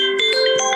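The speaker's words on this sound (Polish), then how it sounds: "o ktoś dzwoni" A phone rings with an incoming call, a loud, steady electronic melody of bright tones playing close by during a look at young pigeons in a loft.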